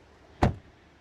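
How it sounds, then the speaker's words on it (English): A single solid thud as the door of a BYD Seal 6 Touring DM-i estate car shuts, short and close, with a low-heavy impact and a quick fade, and no voices. "Very solid door closing sound."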